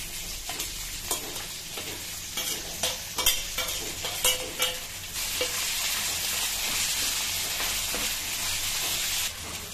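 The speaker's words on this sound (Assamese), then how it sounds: "সৰিয়হ আৰু পিঁয়াজখিনি অকণমান ৰঙা হ'ল, আলুখিনি ঢালি দিলোঁ, অকণমান আলুখিনি ভাজি লওঁ।" Potatoes frying in oil with mustard seeds and onion, a continuous sizzle broken by repeated scraping and stirring clatters in the pan, followed by a steadier loud frying hiss toward the end, with no talking.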